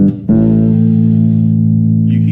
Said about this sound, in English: you hear that you can still hear my regular sound plus the octave.